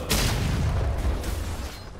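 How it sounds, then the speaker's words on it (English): A turret is destroyed in League of Legends with a sharp, booming explosion at the start, followed by a sustained rumbling crackle that slowly tapers. "Red team's turret has been destroyed."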